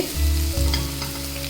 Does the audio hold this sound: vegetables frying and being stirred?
yes